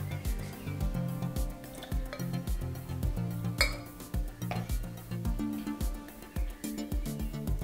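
Rapid, rhythmic clinks and taps of a spoon stirring coffee in an Aeropress, close and bright, continuing steadily with a few sharper knocks.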